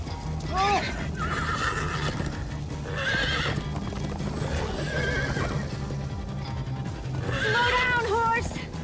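Horses in the Minecraft: Story Mode video game whinny several times over rapid clip-clop hoofbeats while characters shout, with the loudest neighs near the start and end.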